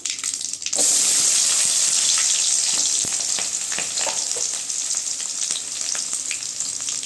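Onions and mustard seeds frying in hot oil for a drumstick stir-fry, a loud steady sizzle that starts abruptly and holds throughout, with scattered pops and crackles and no voices.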